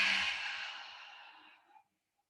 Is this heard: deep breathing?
yes